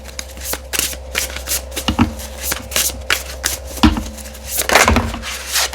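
Oracle cards from a shaman-themed deck are shuffled in repeated quick riffling bursts, crisp papery flutters close by, with no talking.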